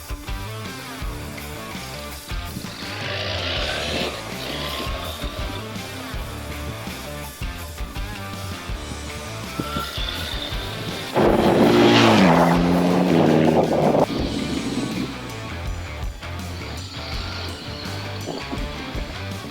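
A BMW R 1300 GS motorcycle on the move, its engine droning steadily under rushing wind noise, then rising into a louder, harsher pull for a few seconds before settling back to a cruising hum.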